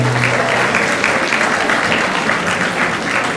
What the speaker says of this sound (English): get a massive round of applause for Yvonne as well.